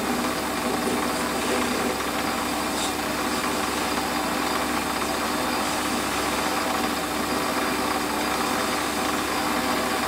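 A lathe faces the end of a metal workpiece, a steady, fairly loud machine hum with a constant whirring, cutting noise holding evenly throughout.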